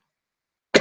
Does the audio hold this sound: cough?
yes